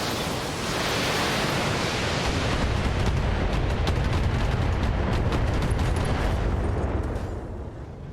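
Mech weapons firing in the Battletech game, a sustained roaring, rumbling barrage that fills the scene for several seconds before easing off at the end.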